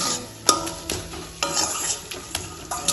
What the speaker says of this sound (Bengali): এবার শাকটাকে একটু এইভাবে ঘেটে ঘেটে দেব